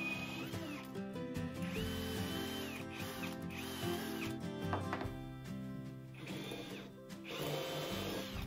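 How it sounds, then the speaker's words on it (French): An electric drill bores a 20 mm hole into a wooden workbench, with a steady whirring hum that rises and dips through several passes and shows no talking. "Je vais faire comme si je perçais dans mon atelier, dans mon établi"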